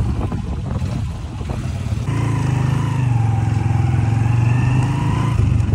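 Motorbikes parked in a cool basement start up and pull away, engines rumbling close and loud, one rising into a steady revving drone that echoes off the enclosed space.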